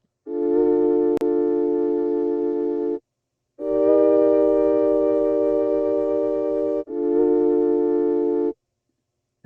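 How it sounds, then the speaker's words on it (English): Sustained synth-like chords from a one-shot sample kit play in a software sampler, three long held tones separated by brief gaps, clean, loud and steady with no talking. "So the very first sound is the chords, which sound like this."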